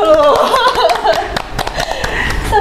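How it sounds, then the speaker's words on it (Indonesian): Applause from an audience at a talk, scattered hand clapping mixed with chuckles and voices chatting over it, moderately loud and close. "tepuk tangan dulu."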